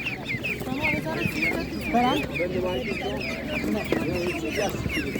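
Several laying hens cluck and squawk nearby in an irregular chatter at an animal market, with a busy market murmur and faint voices around them.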